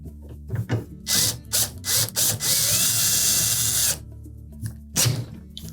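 A wrench tightening hinge screws on a Whirlpool refrigerator door, with a series of short ratcheting bursts followed by a longer continuous grinding stretch, then a few more clicks, close and fairly quiet.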